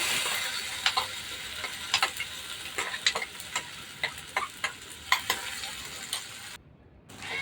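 Ground chilli-cashew paste hits browned fried onions in a pan, giving a steady close sizzle with repeated sharp clicks of stirring, then a brief drop to near quiet near the end; no voices.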